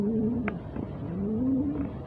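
Pigeons coo nearby in low, rolling, throaty calls, one drawn-out coo after another, with a faint background hum and a brief click.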